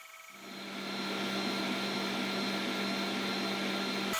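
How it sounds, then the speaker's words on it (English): An xTool S1 laser cutter slices through 3mm plywood with a steady, loud whirring hum of fan and exhaust that ramps up at the start and holds constant, with no talking. "we're going to use some 3mm plywood to do a cut test"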